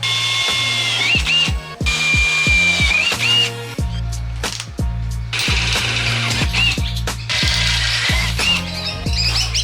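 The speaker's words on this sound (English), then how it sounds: "So I'll drill these holes out" A power drill whirs loudly and steadily, winding up and down as it bores mounting holes for a Runva 11XP winch install, with brief pauses and rattling between runs.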